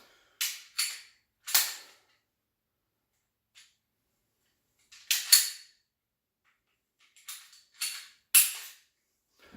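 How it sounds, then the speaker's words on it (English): Sharp metallic clicks and clacks from a CZ semi-automatic pistol being unloaded and field stripped, arriving in short bursts with quiet gaps between them, close and fairly crisp. "I'll unload and field strip the gun that I'm carrying right now."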